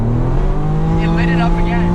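The Red Ted turbo car pulls hard from first gear, a loud steady engine drone rising in pitch throughout, with a voice talking over it.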